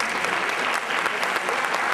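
A concert audience claps steadily and loudly, a dense wash of many hands filling the whole moment with no pauses and no voices rising above it.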